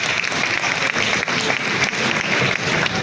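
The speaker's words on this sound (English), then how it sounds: "So we give a round of applause for that." A round of applause fills the space, dense, steady clapping from an audience at a book milestone celebration, sustained throughout without a break.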